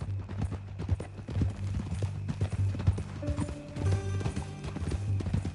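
Horse hooves clip-clop steadily in Red Dead Redemption 2, a fairly close, even rhythm of knocks under low rumbling ambience, with faint tonal music threads joining partway through.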